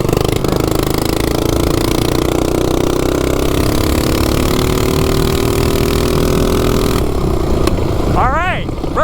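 Several mini bike engines racing together, a loud continuous buzzing drone with rising and falling revs and overlapping motors close by; people's voices are mixed in.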